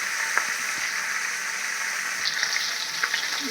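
Fish sizzles steadily in hot salted oil, a close, even crackle with occasional small pops and no voices.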